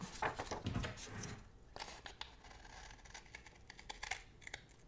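Scissors snip through a planner page close up, a quiet series of short crisp cuts and rustles, with paper handling sounds between the snips.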